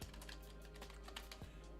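Fingers type rapidly on a computer keyboard while someone writes code for a recipe website. Close, steady clicking and tapping continues throughout, with no speech.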